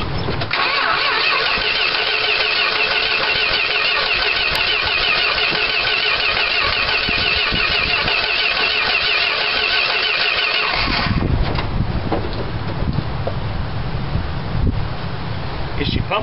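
A 1978 Dodge Power Wagon engine cranks loudly and continuously after a fuel pump replacement, the churning starter sound changing character near the end as the engine catches, close and dominant throughout.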